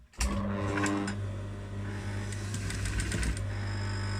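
A sewing machine stitches through the seam allowance of a dress to encase metal boning, a close, steady mechanical whir with rapid needle ticking that starts abruptly and runs throughout.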